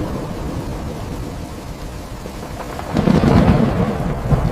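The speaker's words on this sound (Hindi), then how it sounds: "बहुत तेज बारिश हो रही थी, बिजली चमक रही थी" Steady heavy rain roars throughout, swelling into a loud, rumbling surge of thunder in the last couple of seconds; no voices.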